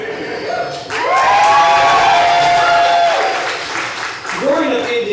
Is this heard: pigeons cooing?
no